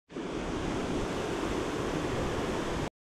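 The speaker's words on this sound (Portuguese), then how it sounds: "Aqui tem mais uma queda d'água, né?" A waterfall in the Rubião canyon pours as a steady, close, full roar of rushing water that stays unbroken for about three seconds and then cuts off, with no voices.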